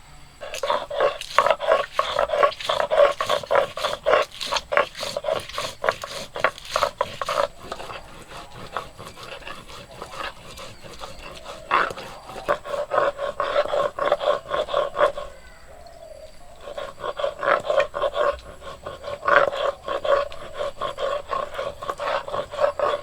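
Green and dried chilies are ground into paste by hand in a rustic village-style kitchen, with rapid, rhythmic rough scraping strokes that continue throughout and pause once briefly.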